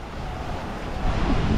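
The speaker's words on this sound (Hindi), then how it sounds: "Waves are too strong, huh?" Strong sea waves at Kolovare beach in Zadar, Croatia, make a steady broadband wash of surf. The rush swells slightly louder toward the end, mixed with wind noise on the microphone and no speech.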